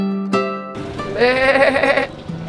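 A goat bleats close and loud at a farm during a Lebaran family visit, one long wavering bleat after a short sharp noise, with a brief voice at the end.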